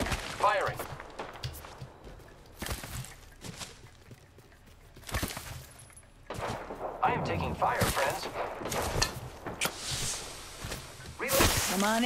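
Loud explosive bursts and blasts from an airstrike in the Apex Legends battle royale game, arriving in several separate clusters with chaotic gunfire-like cracks in between, while players talk over the action.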